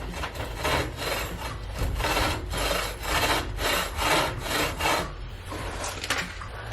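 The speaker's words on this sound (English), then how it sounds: "And now I take a saw" Hand saw cutting through small pieces of wood: loud, close rhythmic rasping strokes, about eight back-and-forth pulls at a steady pace, slowing and stopping near the end, no talk.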